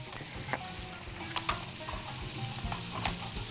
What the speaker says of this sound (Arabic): احنا حاطين على النار الرز ومن وقت للتاني بنديله تقليبه علشان يتحمص معانا